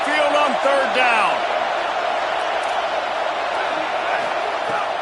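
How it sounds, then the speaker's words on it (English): A stadium crowd of Alabama Crimson Tide fans roars on third down at Saban Field, a dense continuous wall of noise with a few whistles and whoops at the start, loud and sustained. "The Tide crowd rolling noise down onto Saban Field on 3rd down."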